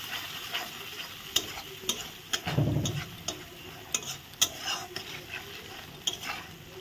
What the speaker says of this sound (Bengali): দিয়ে ভালো করে নেড়ে নেব।